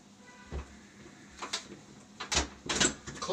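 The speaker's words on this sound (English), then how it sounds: "Close the door." A door closing indoors during a home workout setup with resistance bands, heard as a few faint thuds and clicks of the door and latch against quiet room tone.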